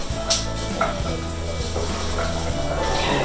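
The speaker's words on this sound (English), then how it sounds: "Nice and sizzling." Onions fry in oil in a pan for a homemade tomato sauce, giving a dense, continuous sizzle close up, with occasional stirring scrapes and utensil clinks over it.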